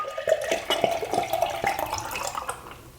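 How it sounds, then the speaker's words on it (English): Milk Stout Nitro beer splashes and gurgles as it's poured forcefully into a glass, a close, bubbly rushing pour that gradually softens. "I am going to pour it hard,"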